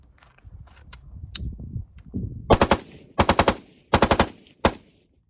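A rifle with a Riflespeed gas port fires unsuppressed in rapid bursts of sharp, loud cracks, a few single shots first, then several quick strings of three to four shots, with faint handling noise between.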